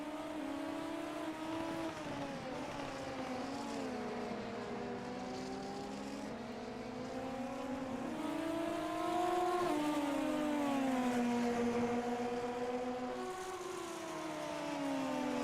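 Formula race cars lapping at the Spanish Grand Prix, a sustained engine whine rising and falling with gear changes and acceleration, steady and moderately distant, with no commentary audible.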